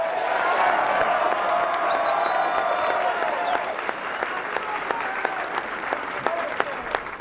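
Audience applause from a crowd at a political speech to small business owners in Hudsonville, Michigan, sustained dense clapping that thins into scattered claps, with a brief voice and a faint tone mixed in.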